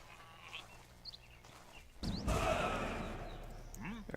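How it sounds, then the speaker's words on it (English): Sheep bleat in a Northgard strategy game, a few short calls over a quiet start before a denser burst of game ambience and bleating rises and holds. "There's 3 sheep there."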